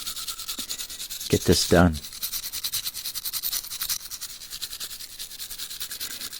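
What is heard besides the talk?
rubbing and cleaning a diecast car for paint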